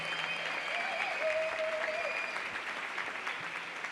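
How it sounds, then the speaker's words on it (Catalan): A crowd at the La Patum festival in Berga gives sustained, hearty applause for the castellers. Faint whistles or cheers rise briefly above the steady clapping. "Un fort aplaudiment també als castellers de Berga,"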